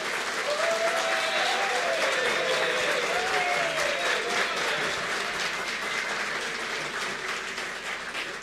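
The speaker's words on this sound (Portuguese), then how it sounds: "por que eu solicitei essa salva de palmas" An audience at the opening ceremony of the 23rd CONEMI conference gives sustained applause for licensed president Jorge Silva, dense steady clapping filling the hall and slowly tapering, with faint voices underneath.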